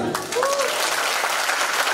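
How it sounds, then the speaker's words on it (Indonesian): Audience applause after a special lecture at Fateta Unand, a university faculty: steady, close clapping from many hands, with a voice briefly heard over it. "Terima kasih Bang Sandi, tepuk tangan."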